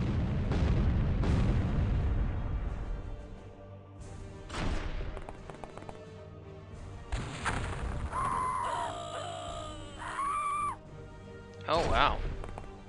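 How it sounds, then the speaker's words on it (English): A big missile explodes in the OpenXcom WH40k mod, a heavy booming blast with rumbling decay followed by further crashes and bursts, while voices talk over the action. "Oh wow, that was a big missile."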